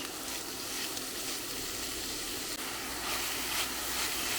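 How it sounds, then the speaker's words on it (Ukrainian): Food sizzles and crackles in a hot pan, a steady, even hiss throughout with no voices. "підсмажу ще хвилин 5"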